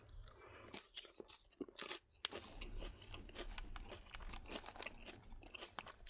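Crisp, crunchy chewing of a salad with tortilla chips, close to the mic, in irregular bursts of crunching and biting with no talking.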